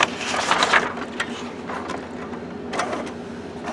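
A Canon TS9520 printer ejects a sheet with a burst of mechanical whirring and clattering, followed by softer intermittent clicks and rolling feed noises. It is close and moderately loud, with no talk.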